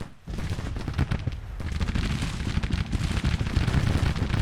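Massed musket volleys crackle continuously across a Civil War battlefield in Grand Tactician, a dense rolling fusillade of many distant shots layered over a low rumble, with no voices.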